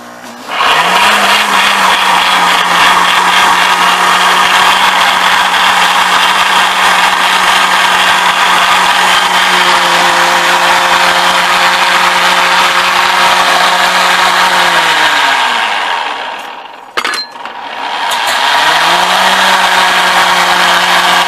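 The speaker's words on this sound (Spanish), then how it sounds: "Vamos a batir esto, aquí va a ser un poco de ruido" A blender whirs loudly and steadily as it purées a red pozole mixture with guajillo chili. The motor holds a constant pitch, winds down briefly near the end and then spins back up.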